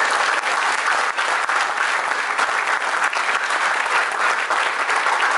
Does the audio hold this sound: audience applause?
yes